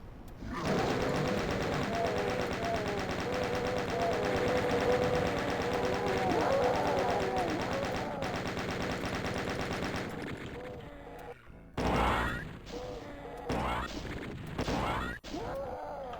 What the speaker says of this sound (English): chain gun versus chain gun